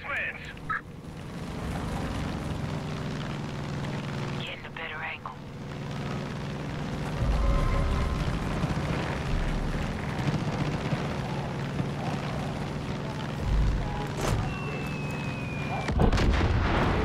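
Bombs dropped from an aircraft explode in Far Cry 5, heard as deep booming blasts and rumbling gunfire over steady engine drone, with a voice talking throughout.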